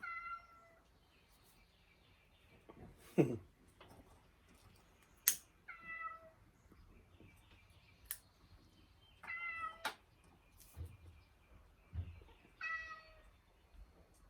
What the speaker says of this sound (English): I hear the outside cat, I don't see it.